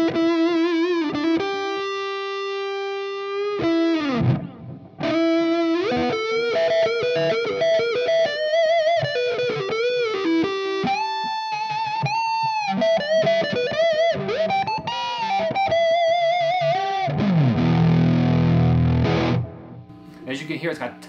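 A Woodcraft Bobcat electric guitar played through distortion with the tone knob rolled down, producing a warm, smooth lead with sustained bent notes and vibrato, loud and close, and a low muddy chord near the end.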